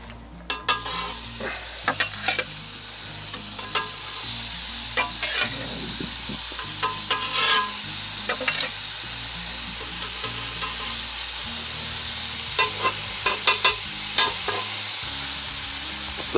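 Food searing on a hot griddle at an old outdoor kitchen in the woods, a steady broadband sizzle running throughout with scattered crackles and pops, close and fairly loud, and no voices.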